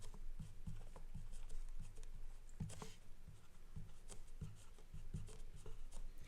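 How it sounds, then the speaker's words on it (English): Chalk or marker strokes on a board as a precalculus lecturer writes out notes on logarithmic expressions, a steady run of short scratchy taps and rubs, close and fairly quiet with no talking. "So let me write that down to emphasize that."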